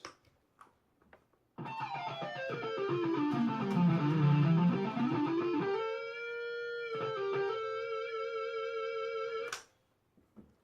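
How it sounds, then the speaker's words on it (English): A guitar runs a scale downward and back up through a Boss PS-6 Harmonist pedal, each note doubled by a harmonizing second voice, ending on a long sustained note. "It literally adds a harmony to the part you're playing."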